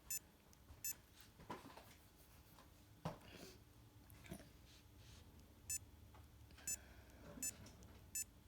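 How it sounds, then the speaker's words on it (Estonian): A Garmin Forerunner 935 sports watch sounds several short, high electronic beeps from button presses at irregular intervals, faint clicks and quiet room noise between them. "Kell piiksub, ma lülitan jälle välja sellega."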